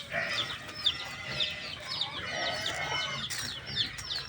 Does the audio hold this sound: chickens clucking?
yes